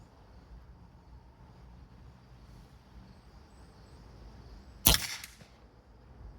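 A single sharp, loud click snaps out near the end from the trigger of a Pinty PCP air rifle, with a brief ringing tail over a quiet background.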